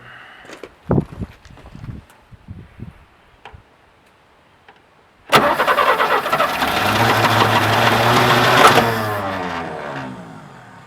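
A 1967 Chevy C10 engine, parked for 23 years, cranks briefly after a few faint clicks and then catches, running loud and rough for several seconds before easing down, close by.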